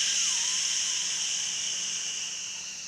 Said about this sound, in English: long breaths out through the teeth. Sounds like this.